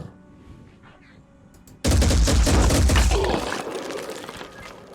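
Enemy return gunfire in the tactics game Phoenix Point bursts in suddenly after a quiet stretch of ambience, a loud dense barrage of shots that slowly thins over several seconds.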